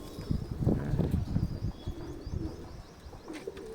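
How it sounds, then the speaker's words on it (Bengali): An imported female Kuwaiti pigeon coos nearby in low, throaty rolling bursts, fairly soft, with faint chirps from other birds behind it and no speech. "এই যে আছে মাদিটা, সুপার কোয়ালিটির একটা কবুতর"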